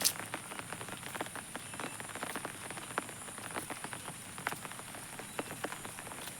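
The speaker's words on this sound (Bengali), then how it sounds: "এই যে বৃষ্টি আসা ধরছে পানি গড় গড়িয়ে চলে আসতেছে" Rain falling steadily on hard surfaces outdoors with runoff water flowing, a dense patter of close drops and ticks at an even, moderate level throughout.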